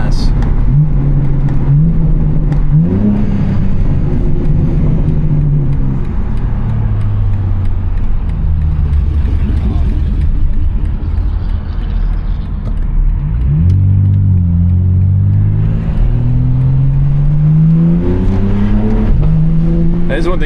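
A BMW G80 M3 engine revving and pulling through the gears while driving, loud and close throughout, with rising and falling engine tones and a brief dip mid-way before climbing again.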